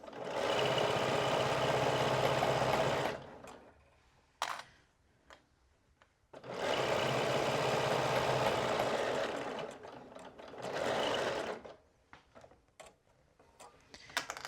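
A sewing machine stitching a pocket seam on an Irving dress, two long steady whirring runs and a shorter burst separated by quiet pauses with small clicks and handling noises, close and fairly loud.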